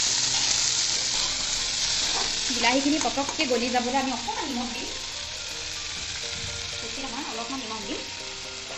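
Small tomatoes sizzling and frying in a pan with salt, a steady close hiss throughout while someone talks over it.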